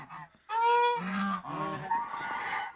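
Geese and ducks out on snow, honking loudly in a burst of several overlapping nasal calls from close by, then lower, rougher honks continuing with no one talking.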